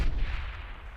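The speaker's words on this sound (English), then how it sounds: "Explosions." An explosion sound effect booms as one deep, loud rumble that starts strong and slowly fades over about a second, with no voices.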